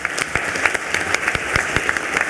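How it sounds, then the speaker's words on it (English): Applause from the audience at a college Board of Regents meeting: a dense, steady patter of many hands clapping, with a few louder claps standing out and no talk over it. "please join me in giving her a round of applause for that incredible effort"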